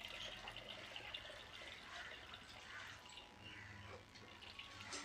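Broken basmati rice being washed in water for a stuffed bottle gourd recipe, a soft, continuous sloshing and trickling of water heard faintly and close, with no talking.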